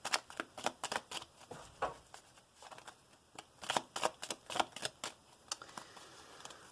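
Tarot cards shuffled by hand in a series of sharp riffling bursts, some louder and closer than others, with short pauses between and no talking.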